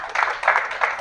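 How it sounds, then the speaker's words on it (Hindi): An audience claps for a woman introduced at a business talk, three short swelling bursts of clapping over about a second, fairly close and moderately loud. "पहले एक बार हिमानी जी के लिए ताली हो जाए।"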